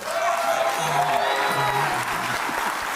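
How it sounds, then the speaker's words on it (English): Studio audience at a comedy news show applauds and cheers steadily, a dense wash of clapping and whoops with a voice speaking over it. "please, a nice round of applause for straw man, ladies and gentlemen"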